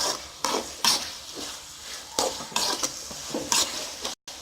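A spoon stirs and mashes tomatoes and onions frying in a pan for a spicy chicken gravy, with sizzling and repeated scraping and clinking of metal on the pan, close and steady with no voices.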